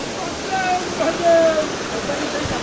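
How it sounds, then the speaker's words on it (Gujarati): A monsoon waterfall roars as a steady, broad wash of rushing water, heard from nearby with faint tonal sounds drifting over it and no clear talk. "અને આ ધોધ જુઓ."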